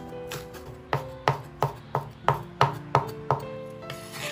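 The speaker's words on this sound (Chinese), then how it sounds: "葱叶也将它切成葱花。" A knife chops washed scallion greens into small rings on a board, about ten crisp, evenly spaced thuds in close succession, no voices.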